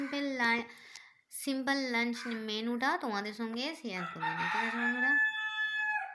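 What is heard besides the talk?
rooster crowing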